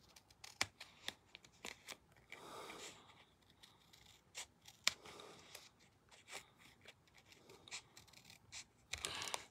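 Scissors snip along an edge being trimmed, giving short, quiet cuts in an irregular series with soft rustling and handling noises between them, close and faint, with no talk.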